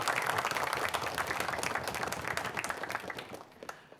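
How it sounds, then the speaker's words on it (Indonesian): A studio audience at a TVRI Sumatera Selatan quiz show claps in a loud, lively burst of applause that gradually fades toward the end. "berikan tepuk tangan yang paling meriah untuk kita semua"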